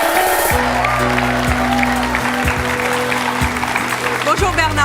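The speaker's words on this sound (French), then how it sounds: "Je vous demande de les applaudir tous les deux." A television studio audience applauds an inventor and his self-standing ladder, bright steady clapping running under loud tonal music stings and a brief swell, fairly close and full.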